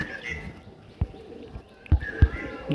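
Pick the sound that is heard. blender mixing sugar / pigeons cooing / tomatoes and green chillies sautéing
pigeons cooing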